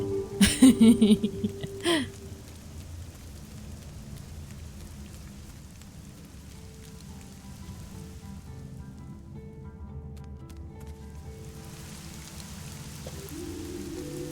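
Steady rain falls in the Fall of Porcupine video game, a soft continuous hiss of drops that runs throughout after a brief loud burst of game sound at the start.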